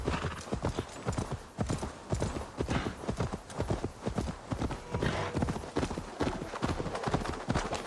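Steady, rapid clip-clop of horse hooves trotting in Assassin's Creed Valhalla, continuous and fairly loud throughout, with a faint game soundtrack underneath.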